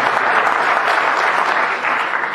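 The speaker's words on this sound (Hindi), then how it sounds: "तो एक बार आपकी तालियां बनती हैं उसके लिए" An audience at a Hindi poetry recital applauds the poet, a dense, steady wash of many hands clapping close and loud, with no talk over it.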